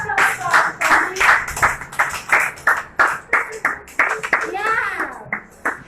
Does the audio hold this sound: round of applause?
yes